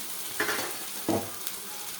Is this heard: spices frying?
yes